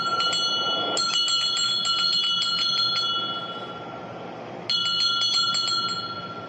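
A very old bell dating from the 1800s rings in two bright clusters of quick struck tones, each leaving a sustained ringing hum that fades in between.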